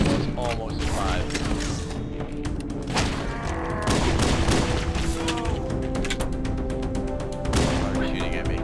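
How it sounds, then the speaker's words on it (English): Gunfire from the video game Halo comes in dense, continuous bursts and booms, with people talking over the shooting throughout. "Are you shooting at me?"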